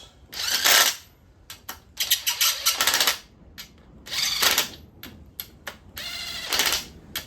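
A hand ratchet snugs down engine bolts during a 1984 Chevy square body motor rebuild, giving several short, close bursts of rapid metallic clicking separated by brief pauses.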